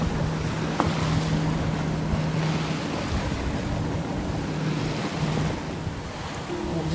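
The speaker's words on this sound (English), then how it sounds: "So this is a boat called a Rafnar." A Norwegian-built Rafnar boat running on the Aegean Sea near Greek islands, with a steady engine drone under rushing water, wave wash and wind buffeting the microphone, continuous and moderately loud.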